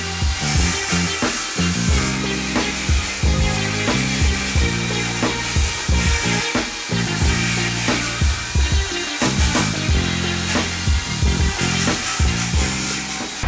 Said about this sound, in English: That nylon brush actually was a lot better at removing the paint in terms of aggressiveness than I thought it was going to be